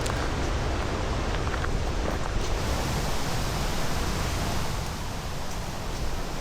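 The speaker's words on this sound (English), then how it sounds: "You're hearing waves the whole time and the wind rustling in the trees" Lake waves wash steadily on a rocky shore while wind rustles through trees along a scenic hiking trail, forming a dense, constant roar of broadband noise with no breaks or voices.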